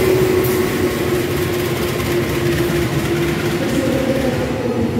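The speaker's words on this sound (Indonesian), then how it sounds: "Dan ini dia kereta api Progo yang akan masuk di jalur 2 stasiun Purwokerto." The Progo train rolls into platform 2 at Purwokerto station with a loud, steady rumble and a sustained tonal whine, continuous and close throughout.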